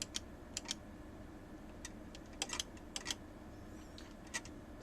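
Computer keyboard keys tapped in scattered single clicks and a few quick clusters, crisp but quiet over a low steady room hum.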